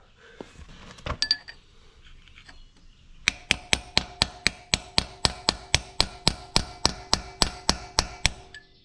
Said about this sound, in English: I'm going to try it with a chisel first.